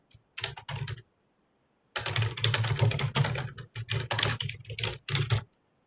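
Computer keyboard typing code in bursts of rapid keystrokes, a short flurry followed by longer sustained runs with brief pauses, close and clear with no talking.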